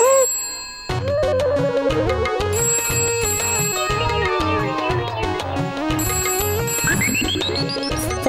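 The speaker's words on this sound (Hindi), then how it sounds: "फोन है हाँ फोन है तू उठा ना" A phone ringtone plays loudly as a repeating electronic melody with bell-like tones, continuing steadily for several seconds after a brief pause at the start.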